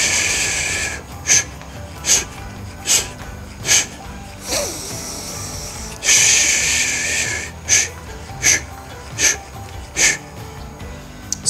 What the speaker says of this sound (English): My breathing pattern sounds like this.